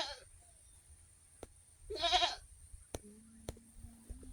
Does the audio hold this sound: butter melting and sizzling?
no